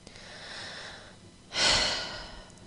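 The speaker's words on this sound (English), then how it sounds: "Take a deep breath with me." A single deep breath: a soft, drawn-out inhale followed by a louder, airy exhale, close and clear in a quiet room.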